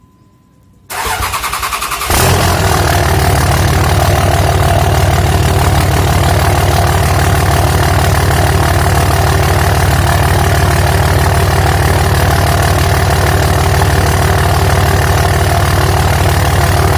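A car engine starts and then settles into a steady, loud idle close by, running for the first time after its exhaust system was replaced with a newer design.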